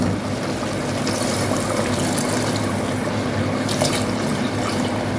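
Water, about two glasses, poured into a pot of mutton balti of browned spices, tomato and meat, a continuous splashing pour running steadily and close for several seconds.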